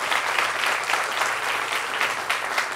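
An audience at a master class claps, a dense, steady burst of applause from a crowd filling the room throughout.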